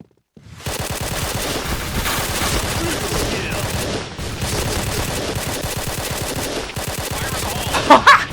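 A K2C EBR rifle fires in a shooting video game as long, rapid bursts of loud gunfire with a brief break in the middle, while a player talks over the shots.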